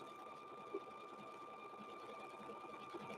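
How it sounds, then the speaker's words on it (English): A sewing machine stitching a quilted handbag runs steadily with a fast even mechanical hum and whir, close and continuous throughout. "So stitch it down here."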